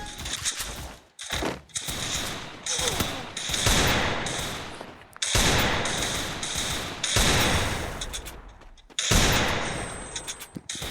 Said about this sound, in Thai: ผมฝึกยิงหัวอยู่ ตอนนี้ก็ ยิงหัวได้อยู่